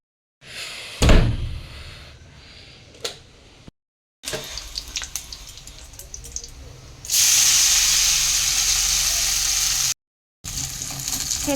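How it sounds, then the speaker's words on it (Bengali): Flattened rice frying with curry leaves in hot oil: sharp sizzling bursts and stirring clatter, then a loud, steady hiss of frying for several seconds, broken by brief silent gaps. "কারি পাতা দিয়ে একটু চিড়েটাকে ভালো করে ফ্রাই করে নিচ্ছি"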